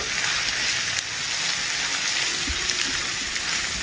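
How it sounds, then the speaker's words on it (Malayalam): Onions frying over medium flame in a pan, giving a steady close hiss of sizzling oil with a few faint scrapes from stirring, and no voices. "ഒന്ന് ഇളക്കി കൊടുക്കാം."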